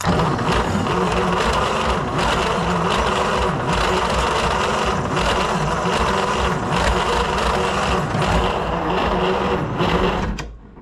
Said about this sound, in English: I can hear one cylinder definitely popping.